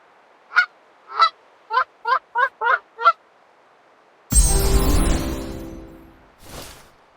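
Geese in the video game Where Winds Meet give seven short, evenly spaced honks, loud and close, followed by a broad whooshing rush and a final brief swish, with no talk.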